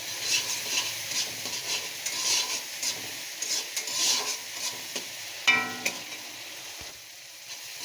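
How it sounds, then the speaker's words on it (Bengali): Fish with turmeric powder being stirred in a hot pan for a Bengali mustard fish curry, steady oily sizzling with scraping spatula strokes throughout and a brief louder clatter near the end, no talking. "হলুদ গুঁড়োটা এখন দিয়ে দেব। দিয়ে আরও একটু নাড়াচাড়া করে নেব।"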